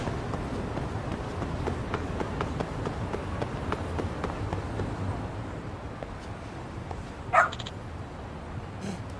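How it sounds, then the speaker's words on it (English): A Shiba dog in the game Lost Judgment gives one short, sharp bark near the 7-second mark, with a fainter yip after it, over steady game background ambience. "The dog. The Shiba."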